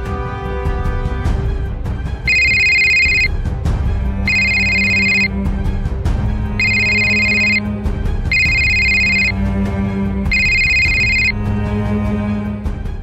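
An outgoing call home rings on a telephone: five evenly spaced electronic ring bursts, each about a second long, loud and close over a low background hum, with no talking.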